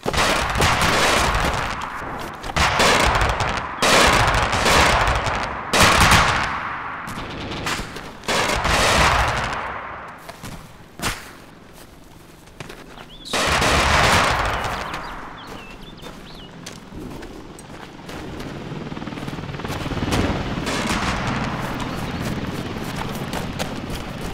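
Rapid bursts of automatic rifle and machine-gun fire from the Arma 2 military shooter, set in an insurgency mission in Zargabad, ring out in repeated volleys, loud and near, then taper into scattered distant shots.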